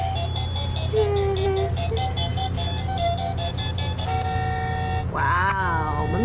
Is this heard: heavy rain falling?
no